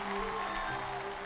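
Audience applause rises at the 2023 Zhejiang TV Yue opera Spring Festival gala, a brief, moderately loud spread of clapping over lingering sustained musical tones.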